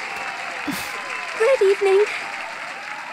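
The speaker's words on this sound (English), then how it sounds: "Clapping as hard as I can." Audience applause fills a Detective Pikachu video game scene, steady clapping throughout with a brief spoken greeting over it.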